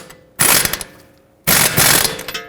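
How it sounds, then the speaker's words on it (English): A wrench snugs up a knuckle bolt on a 2012-2017 Toyota Camry front suspension, two loud close bursts of rapid ratcheting clicks separated by a short pause. "I'm holding that one with a wrench and snugging this one up"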